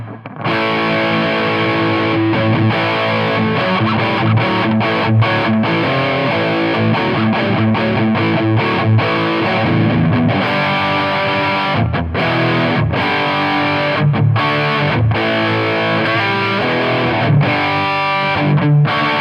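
Les Paul style Artist guitar with a humbucker played through a Pigtone English Man distortion pedal, thick crunchy distorted chords and riffs, loud and sustained with brief rhythmic stops, no talking.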